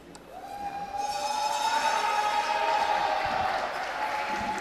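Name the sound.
crowd reacting at a curling match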